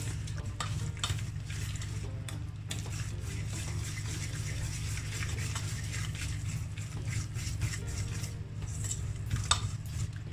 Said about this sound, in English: Giving this a little mix, and we're gonna add our milk.